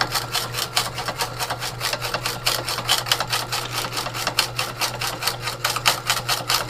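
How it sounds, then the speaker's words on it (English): A rock crusher grinds material down finer, a steady mechanical rattle with fast repeating clicks over a constant low hum, close and continuous. "sizing your material and keeping on crushing it down finer and finer and finer"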